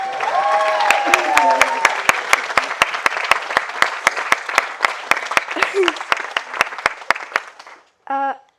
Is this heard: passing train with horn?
no